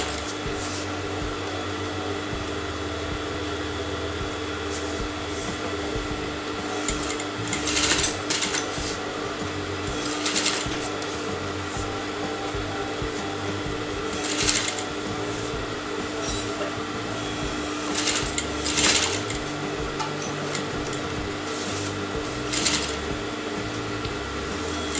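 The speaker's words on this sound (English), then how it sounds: "now I'm going to sew the outer edge" A sewing machine runs steadily along the outer edge of a canvas neckline, a continuous mechanical hum with a few louder surges. Quiet background noise carries on under it throughout.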